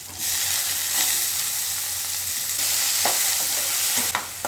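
A cutlet mixture fries in hot oil with a loud, continuous hiss. Occasional scraping sounds from stirring break through the sizzle.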